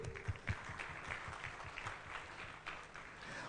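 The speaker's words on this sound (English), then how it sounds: "Ladies and gentlemen, give a round of applause for Fatuma Adan." Faint, soft clapping from an audience at a project management awards evening, a thin scattered patter with a few louder claps near the start, somewhat distant and muffled.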